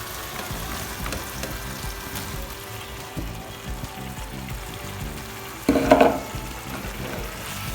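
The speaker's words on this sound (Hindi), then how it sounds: "तो अब मैं इसमें चिकन डाल दूँगी" Chicken pieces dropped into a pan of simmering korma for tikka biryani set off a louder, brief burst of sizzling near the end, over a steady low frying hiss throughout.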